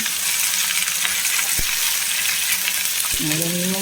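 Crushed shallots and curry leaves frying in a pan, with a steady loud sizzle, brief metallic knocks around the middle, and a ringing clink near the end.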